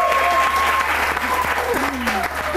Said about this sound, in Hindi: इनकी हिम्मत के लिए तालियां,